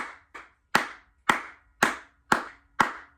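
Real hand claps recorded for a song chorus: seven crisp, close, dry claps in a steady rhythm, the first two softer, with silence between them.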